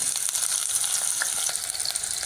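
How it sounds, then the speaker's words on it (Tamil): Loud, steady sizzling of a finely chopped onion frying in hot oil, close up, with soft crackles and pops throughout and no talking. "அதில் ஒரு பெரிய வெங்காயம் பொடியாக நறுக்குனதை போடுறேன்."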